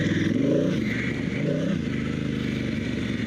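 An adventure motorcycle on Kenda K678 Big Block Paver tires rides a gravel road near a washout, its engine droning steadily up close with crunching, rattling tire noise over loose stones.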